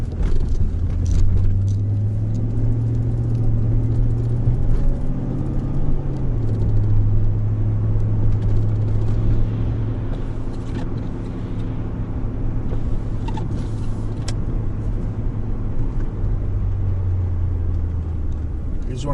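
A Mercedes E55 accelerating hard, heard from inside the cabin as a steady engine drone that rises and holds in pitch, with continuous road rumble throughout.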